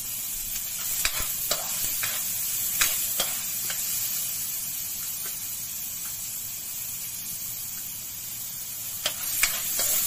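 Onion and garlic sauté in a hot pan, sending up a continuous bright sizzle while a utensil stirs and scrapes the pan in scattered clicks, close and without voices.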